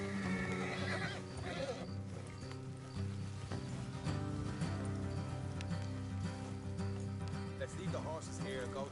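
Horses whinnying with clip-clopping hooves in the video game Red Dead Redemption 2, set under game music and rain ambience, with a voice talking over it.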